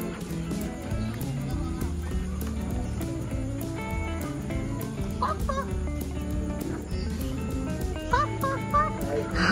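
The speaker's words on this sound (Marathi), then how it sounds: "हा मोठा कोंबडा आहे" A big rooster clucks at a bird and aquarium attraction in Sawantwadi, its calls mixed into a dense, steady wash of background noise while voices talk nearby.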